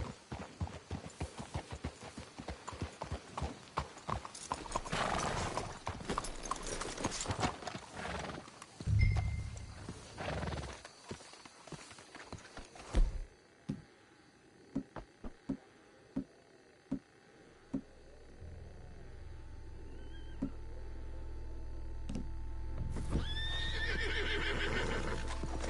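Horses whinny and snort amid clopping hooves and a busy, noisy mix in the video game Red Dead Redemption 2, then a steady low rumble builds toward the end.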